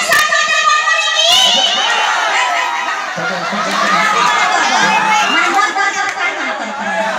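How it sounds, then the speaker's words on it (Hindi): Audience at a live stage show shouts a loud jaikara cheer together, a dense roar of many voices including children, with an amplified announcer's voice calling out over it. "एक बार जयकारा लगवाइए"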